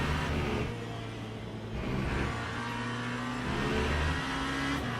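GT3 race car engine in the Le Mans Ultimate sim at Laguna Seca, a steady loud drone with rising and falling pitch through gear changes, carrying on continuously without any voices.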